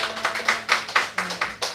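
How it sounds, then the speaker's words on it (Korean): A church congregation claps together in a short burst of sharp, rhythmic applause, about eight or nine even beats close by, with no voices. "그런 주님께 우리 영광의 박수 올려드립니다"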